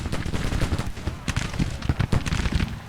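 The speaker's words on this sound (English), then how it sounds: "our 3rd might now be able to open fire. Yes, they are opening up." Civil War brigade musket volleys crackle in a Grand Tactician battle, loud, dense and continuous, with overlapping bursts of rifle fire rolling across the line for a few seconds.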